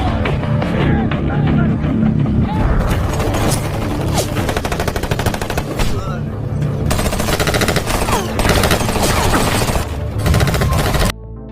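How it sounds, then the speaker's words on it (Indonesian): A fierce film shootout with mercenary soldiers brings dense bursts of machine-gun fire and single gunshots, loud and continuous, with booms mixed in, ending abruptly. "terlibat baku tembak sengit dengan pasukan tentara"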